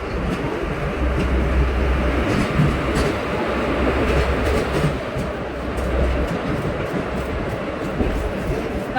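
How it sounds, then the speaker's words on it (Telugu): A passenger train rolls into a railway station, a loud steady rumble of wheels and carriages with faint rhythmic clatter throughout, and no voices over it. "ఇంతసేపటికి వచ్చింది ట్రైన్."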